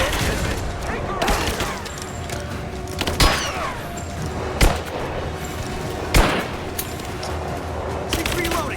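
Gunfire in the Rise of the Tomb Raider video game: sustained rattling bursts of shots with several sharp, louder cracks standing out over a dense battle din. Voices are heard throughout.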